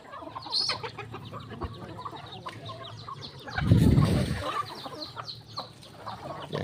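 Wild junglefowl call in grassy forest, a mix of clucks and short crowing notes at moderate distance, with a louder burst of rustling or flapping midway and other faint bird sounds around.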